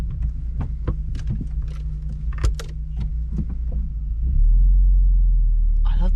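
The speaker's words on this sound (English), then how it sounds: "I love the sound this car makes. It is only a 2-litre injection, but it does sound good." A 2.0-litre injection Volkswagen Golf mk4 Cabriolet engine runs with a steady low rumble and hum, with intermittent clicks and knocks over it, and it grows louder and deeper in the last couple of seconds.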